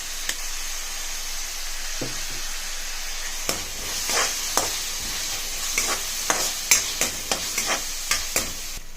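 Ginger garlic, tomato and asafoetida sauté in a hot pan with a steady sizzle, a spoon scraping and clinking against the metal in uneven strokes, louder and busier in the second half.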